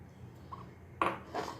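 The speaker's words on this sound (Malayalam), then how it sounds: "ഞാനൊരു കുക്കർ എടുത്തിട്ടുണ്ട് അതിലേക്ക് നമുക്കിതെല്ലാം ഇട്ട് കൊടുക്കാം" A few quick clinks and rattles of lentils, beetroot and small onions dropped into a metal pressure cooker, two sharper knocks near the end, heard close in a quiet room.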